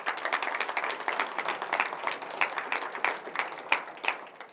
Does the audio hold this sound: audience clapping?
yes